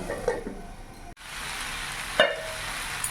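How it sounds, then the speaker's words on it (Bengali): Ridge gourd frying in a pan is stirred and mixed, a gentle sizzle broken by a couple of spatula scrapes and a brief drop in sound, heard close and quiet with no voices. "ভালো করে নাড়াচাড়া করে মিশিয়ে নেব"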